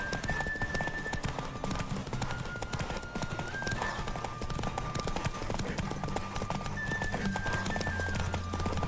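Rapid hoofbeats of a galloping horse in The Witcher 3 pound steadily over game music, with a brief whinny; no one speaks.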